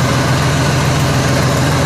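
A 1919 Pierce Arrow Model 51 Roadster engine runs in low gear as the car pulls off, a loud, steady low-pitched rumble with an even throbbing pulse.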